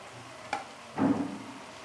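Cabbage and carrots are stirred in a frying pan: a quiet background sizzle broken by two short scraping strokes, a faint one first and then a louder, longer one.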